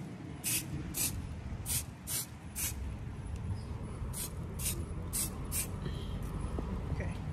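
Hairspray misted over a girl's finished hairdo, heard as a run of short hissing bursts at a steady rhythm, several quick sprays close by over faint room noise.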